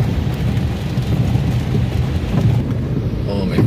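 Heavy typhoon rain during Typhoon Carina pours down in a loud, unbroken roar with a deep low rumble, steady and close, with no voices over it.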